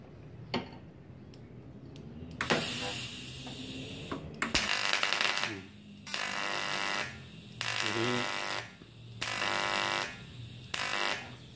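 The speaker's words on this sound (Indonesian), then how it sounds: "pengelasan aluminium tuh seperti itu ya bunyinya ya" AC/DC argon TIG welder arcing on aluminium, a harsh buzzing crackle in repeated bursts of a second or two with short gaps between them, loud and close, preceded by a few faint clicks.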